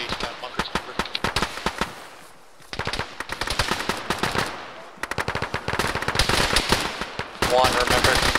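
Rapid automatic gunfire in a military shooter video game, loud bursts of shots in quick strings separated by short pauses, with voices talking over the action.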